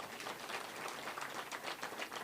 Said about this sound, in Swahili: Tumumpigie makofi.